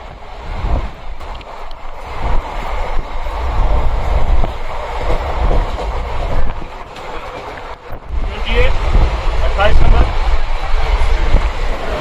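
A train at New Jalpaiguri station gives off a continuous low rumble mixed with wind buffeting and a busy platform background, with a person talking over it.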